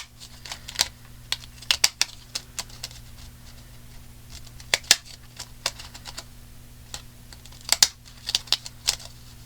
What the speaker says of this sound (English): decorative scissors, is that what they're called?